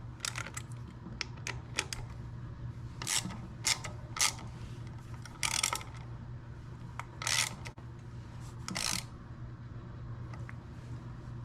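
Screwing down a Vance & Hines VO2 air intake on a motorcycle produces scattered clicks and short scraping bursts of a tool against the fitting, fairly close, with a steady low hum underneath and no talking.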